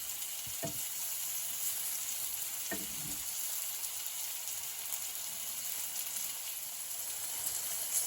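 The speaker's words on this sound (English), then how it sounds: "so my mushrooms get to sizzle as well as to get some color." Mushrooms frying in garlic butter in a pan make a soft, steady sizzle, fairly faint and continuous, with a couple of quiet stirring bumps and no talking.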